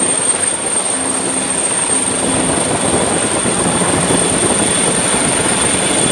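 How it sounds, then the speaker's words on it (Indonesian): A white toy police helicopter gives off a loud, steady whirring rotor-and-engine drone that runs unbroken, close up, with no voices. "Lihat, ada helikopter yang berwarna putih. Wih, ini helikopter polisi."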